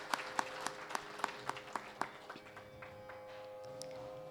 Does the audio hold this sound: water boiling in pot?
no